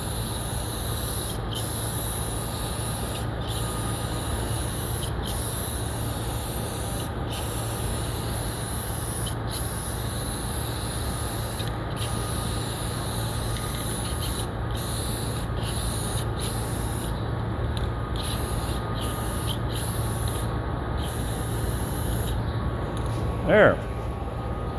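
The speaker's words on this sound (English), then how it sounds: "this is spraying a heck of a lot better than it did prior" Spray can laying black paint onto Farmall 200 tractor parts, a close, steady hiss running almost throughout with several brief pauses between bursts.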